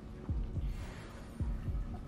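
Heartbeat effect from the Hogwarts Legacy video game: a low, soft double-thump pulse repeating twice, heard alone at a quiet level.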